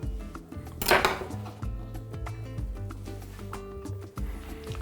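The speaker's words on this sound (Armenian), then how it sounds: "Սա էլ կտրատում ենք խորանարդիկների և գցում հարիչի մեջ։" A knife chops a slice of bread into cubes on a board, with clinks of kitchen utensils and a brief louder clatter early on, close and fairly steady.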